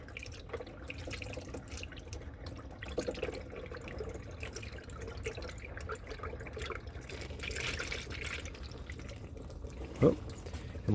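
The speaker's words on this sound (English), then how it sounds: "I'm going to pour that in there until it fills up my radiator." A 1989 Blazer's radiator is filled with pre-mixed 50-50 coolant, giving a soft, steady trickle and drip of liquid at low level, with faint voices and a brief louder knock near the end.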